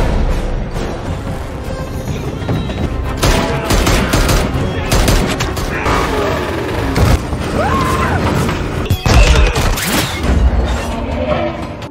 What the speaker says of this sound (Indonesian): Thomas dan Vince segera memisahkan gerbong tawanan dengan cara meledakkan sambungannya.